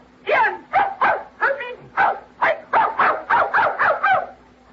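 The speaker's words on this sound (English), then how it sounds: "That's a dog?" Dog barking in an old-time radio drama, a quick run of about a dozen yappy barks and yips in steady rhythm, close and loud, with a faint hum beneath.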